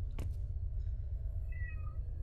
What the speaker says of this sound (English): It's one of our cats.